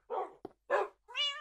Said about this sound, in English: Dog's pissing me off.